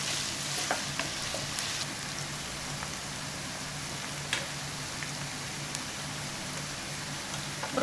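Vegetables for paneer fried rice sauté in a pan with a steady, even sizzle and a few faint stirring clicks, close by and with no talking.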